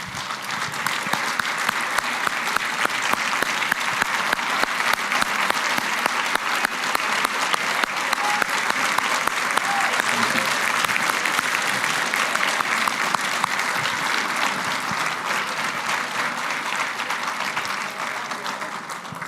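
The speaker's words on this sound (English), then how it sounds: "So please give a huge round of applause for the staff of Students for Liberty" Loud, sustained applause fills a conference hall for nearly twenty seconds, a dense even roar of many hands clapping with no break.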